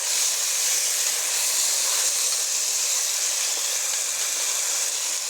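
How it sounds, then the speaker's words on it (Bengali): Vegetable fry sizzles steadily in a pan on the stove as it is stirred and the remaining water cooks off, a continuous bright hiss at close range with no voices. "কারণ অল্প অল্প জল আছে, আমি এটাকে শুকিয়ে নেব। তো ভাজি আমি আবারও নেড়ে দিচ্ছি।"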